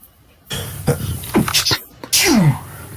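A person sneezes up close, a sharp breathy burst followed by a quick second sneeze-like gasp and a falling nasal exhale, loud and dry against a quiet room.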